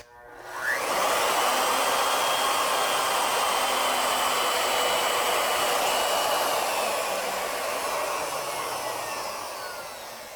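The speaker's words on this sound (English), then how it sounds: "we're going to bring the router in from the side as we make the cut" A router cutting into a round workpiece from the side, a loud continuous high whine starting abruptly after a brief quiet moment, holding steady for several seconds and then easing off gradually.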